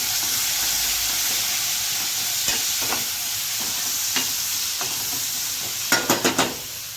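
Ginger, garlic and green chili paste sizzles and hisses steadily in a hot pan, with occasional scrapes and a quick series of clinks from a spoon near the end.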